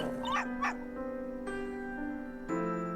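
Constantine the dog in Professor Layton vs. Phoenix Wright barks twice in quick succession, followed by sustained synthesized game tones and chimes, clean and alone with no talk.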